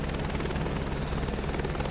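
Helicopter engine and rotor in a flight video game, a steady loud droning whir with a throbbing rotor pulse, unbroken and close, with no talk.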